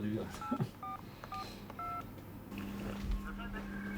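Someone dials a telephone number to call a lawyer, producing a quick series of short keypad tones, followed by a longer steady tone, with muffled voices in the background.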